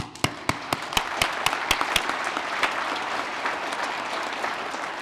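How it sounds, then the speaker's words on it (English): An audience at a university musical celebration claps, starting with a few sharp distinct claps that quickly swell into steady, dense applause that continues throughout. "just a round of applause for all 3 of them"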